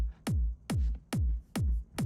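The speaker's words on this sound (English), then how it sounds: "The kick itself sounds like this." A chunky electronic kick drum from a dance track hits five times at an even pace, each thump deep and punchy with a quick downward pitch drop and a short tail, loud and dry with nothing else playing.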